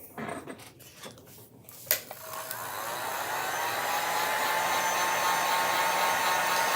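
A hair dryer whirs steadily as it dries chalk paste on a stencil, starting after a few brief handling clatters and then building to a continuous, close, loud blowing hum.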